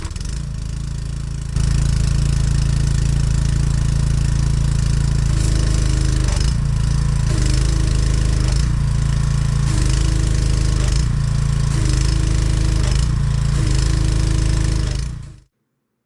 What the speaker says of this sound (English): the moment of truth. Let's see how I did. You got to pull it like a man.